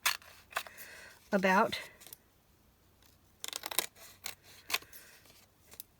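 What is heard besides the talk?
scissors trimming a napkin for junk journaling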